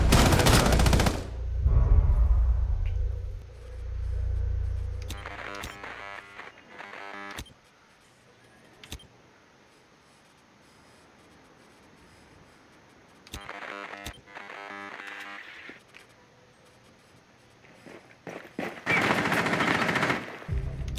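Gunfire in Rainbow Six Siege, on the Skyscraper map in a team deathmatch: several rapid bursts of shots rattle out, separated by quieter stretches with occasional faint clicks.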